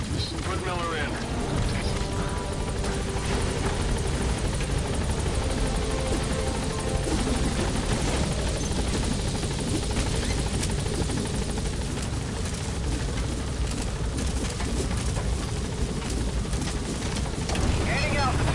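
Helicopter gaining altitude in the video game Metal Gear Solid V, loud thudding rotor chop and engine roar throughout, with voices talking over it.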